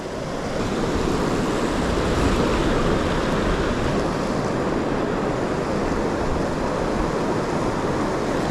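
A high country river flows with a steady, even rush that holds loud and unbroken throughout, mixed with some wind, and nobody speaks.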